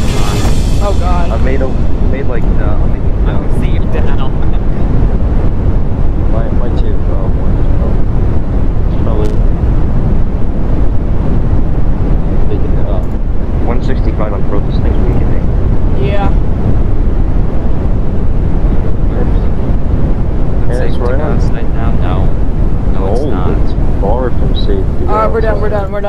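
Roaring tornado wind from inside the funnel in the Roblox storm-chasing game Twisted, a loud continuous rumbling gust with crashing debris throughout, with excited voices talking over it.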